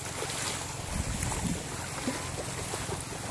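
Motorboats at a pier in rural Northern Samar, heard as a continuous low engine rumble mixed with wind buffeting the microphone and lapping water, steady and fairly distant, with no talking.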